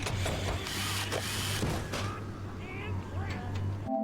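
Weapon upgrade machinery in the BioShock video game: rapid mechanical clanks, ratcheting clicks and whirring parts sound close and busy for a few seconds, then taper off before a short electronic tone.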